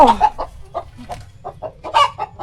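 Hens clucking in short, irregular bursts, fairly close in a chicken coop, with a low steady rumble underneath.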